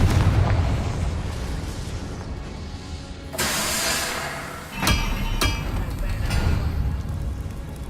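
Confringo spell explosions in the Hogwarts Legacy video game: loud booming bursts, one big blast followed by two sharper cracks, over rumbling game ambience, with a voice heard in the mix.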